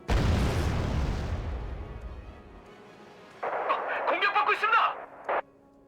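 A heavy boom from tank fire in the war strategy game Wargame: Red Dragon rolls out and slowly fades, followed by a string of short, clipped, radio-like bursts.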